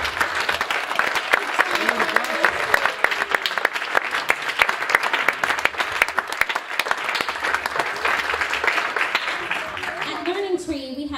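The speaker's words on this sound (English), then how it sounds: "Let's give him another clap." Sustained audience applause at a children's Christmas Star performance, loud, dense clapping lasting throughout, with voices faintly mixed in and a speaker emerging near the end.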